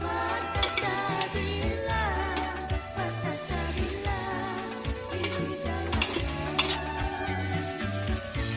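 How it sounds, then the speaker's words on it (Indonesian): Mie Habang noodles are stirred in a frying pan, and a utensil scrapes and clinks against the metal in a quick, uneven rhythm over a constant sizzle. "Terus kita aduk-aduk lagi"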